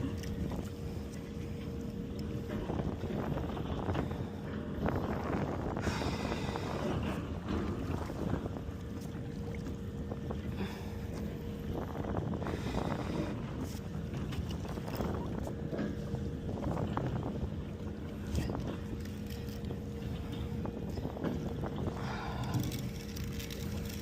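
A steady low outboard motorboat engine drone runs throughout, loud and continuous, with churning water and wind noise layered over it.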